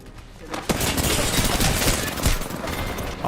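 Dense, sustained automatic gunfire from Apex Legends, a rapid stream of shots that sounds close and loud for a few seconds with no talking over it.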